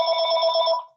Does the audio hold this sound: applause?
no